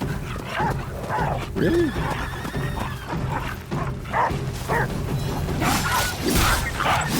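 Dogs attacking in the video game Ghost of Yotei, with repeated barks and yelps in short bursts mixed with a horse whinny and game sounds, while a person speaks briefly over them.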